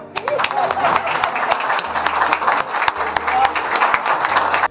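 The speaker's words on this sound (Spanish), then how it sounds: "¿Pueden aplaudir?" Crowd applause at a Dominican political gathering, dense and loud clapping that carries on throughout with crowd noise, scattered voices and sharp individual claps mixed in.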